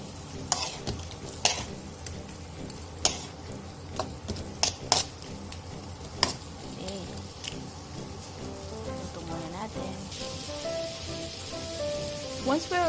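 Shrimp sautéing in a pan with garlic, onion and tomato, a steady sizzle with stirring, sharp utensil clacks against the pan at intervals, and louder frying toward the end.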